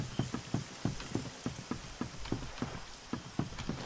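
Rain in the video game Sniper Ghost Warrior comes through as a steady patter, punctuated by regular, fairly close thuds in a rhythmic sequence, like heavy footfalls on a wet surface.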